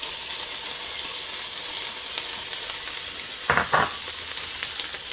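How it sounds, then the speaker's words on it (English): Peppers and onions sizzle in a hot frying pan for meatloaf, a constant close hiss of frying with a brief louder burst of stirring near the end, no voices. "the first thing we're going to do is pre-cook these peppers and onions"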